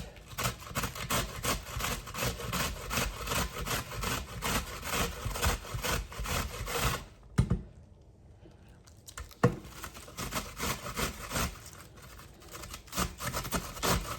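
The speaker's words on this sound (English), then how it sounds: "I'm going to use my good old box grater, just real simple, and get this started grating up." Box grater shredding cabbage and vegetables for coleslaw, with rapid rhythmic rasping strokes, close and steady, broken by a brief pause before grating resumes.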